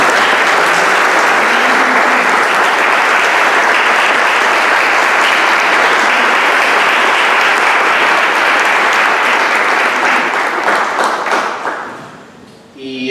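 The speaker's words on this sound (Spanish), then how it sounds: "Yo creo que podemos dar un aplauso para" A church or seminary audience breaks into loud, sustained applause, dense clapping filling the room for about eleven seconds before quickly tapering off and fading to near silence.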